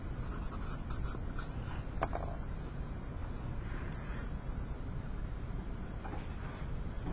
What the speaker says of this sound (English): paper towel to smudge.